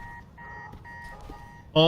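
An alarm in the Spider-Man 2 video game sounds as a repeating electronic tone, steady beeps at moderate level, ending in a louder burst of bright tones.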